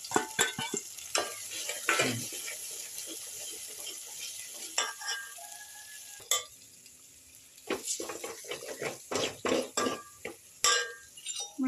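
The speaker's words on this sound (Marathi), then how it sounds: "मसाला छान भाजलेला आहे." Chicken curry masala with garam masala, kasuri methi and bedgi chilli powder roasts in oil in a pan, soft sizzling broken by irregular scraping stirs and clinks of a spoon against the pan, close and fairly quiet.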